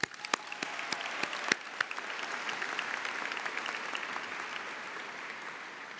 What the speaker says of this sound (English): especially our student tour guides and those orientation leaders, which again deserve another round of applause